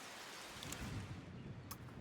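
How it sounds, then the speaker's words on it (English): Rain and thunder during a race in the racing game Golden Lap, a steady hiss of rainfall with low rumbling underneath and a couple of brief crackles, faint and continuous with no voices. "oh, guess what? It's raining."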